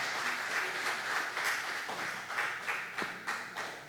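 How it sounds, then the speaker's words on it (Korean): A congregation at a church revival service claps together, fairly quiet and somewhat distant, with a few sharper individual claps poking through the steady patter. "박수 한번 쳐줍시다."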